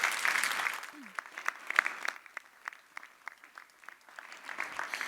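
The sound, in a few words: audience applause for a speaker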